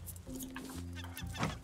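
A bird calls in the survival video game Raft, giving short clucking, squawking cries across a brief stretch.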